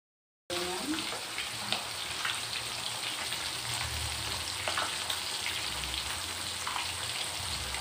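Catfish frying in hot oil, a steady dense sizzle and crackle that runs without a break, close and moderately loud, with faint spatters throughout.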